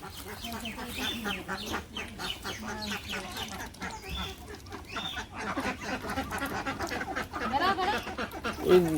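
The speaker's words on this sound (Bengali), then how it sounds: "মুরগি" Village chickens cluck in short, repeated bursts close by, blended with people talking throughout.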